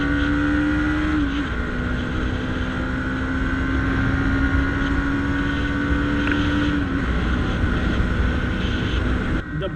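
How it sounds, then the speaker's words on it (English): Bajaj NS 200 motorcycle engine running while riding, a steady close drone with a smooth whine that shifts pitch slightly, under constant wind rush and no talk. "The bike sounds much more smoother than the previous NS"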